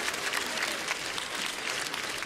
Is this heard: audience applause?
yes